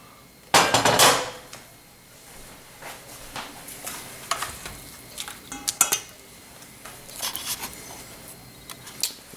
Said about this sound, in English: we carefully remove the bay leaf, strain out the fava beans from the liquid